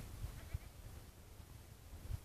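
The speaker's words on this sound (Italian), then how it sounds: "è rimasta una capra dentro" A goat bleats in a stable on a Molise farm: three or four short, low, close calls at irregular intervals, heard alone over a faint background hiss.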